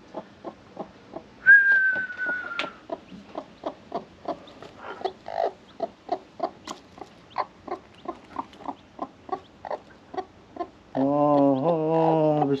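A newly hatched chick in a chicken coop peeps in a fast, regular series of short, close calls, with a brief whistle-like note early on and a louder, fuller call near the end.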